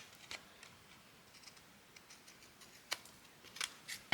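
Scissors trim paper in a craft setting with a handful of quick, crisp snips spread irregularly across the moment, close and fairly quiet over near silence, bunching together toward the end.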